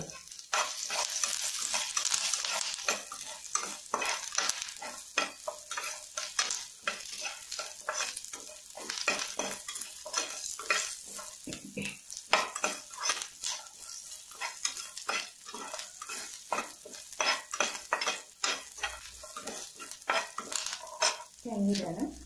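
Ginger, garlic and curry leaves sizzle steadily in a hot pan while a utensil scrapes and stirs in quick, repeated strokes, the frying loud and close throughout.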